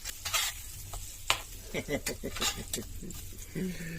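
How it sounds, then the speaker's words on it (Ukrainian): Cutlets sizzling and frying in a non-stick honeycomb-pattern frying pan on a stove set to level five, with a steady crackling hiss and occasional scraping of a utensil against the pan. "Ну, отут смажить нормально."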